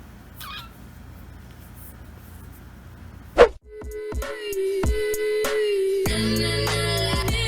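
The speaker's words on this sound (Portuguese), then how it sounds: "Tem outro gato querendo entrar" A cat outside a door meows to be let in, its cries faint against a quiet room, followed by a sharp bump and then steady, louder background noise.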